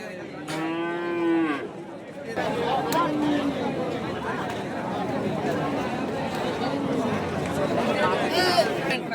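Cattle moo loudly at the start at the Chhatra livestock market, then a crowd murmurs and chatters steadily throughout, with more bull calls mixed into the busy background.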